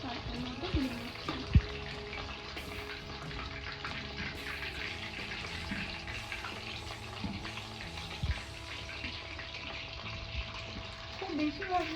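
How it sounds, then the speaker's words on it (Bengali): Chili chicken pieces frying in oil in a home kitchen, a steady low sizzle with occasional clinks and stirring, mixed with a background voice and running-water-like noise throughout. "তাই আমি হালকা ব্রাউন করে মাংসটা ভেজে নিয়েছি।"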